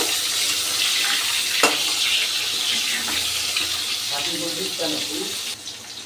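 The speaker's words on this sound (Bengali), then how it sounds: "আলুগুলো আমি হালকা ভেজে নেব।" Cut, washed potatoes fry lightly in oil, giving a constant, fairly loud hiss that runs unbroken for several seconds, with a brief clatter midway.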